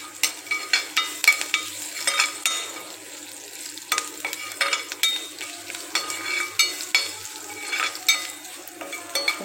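Ponaganti curry with garlic fries in a pan: a close, soft sizzle under frequent stirring, with the spatula scraping and tapping the pan in an uneven rhythm.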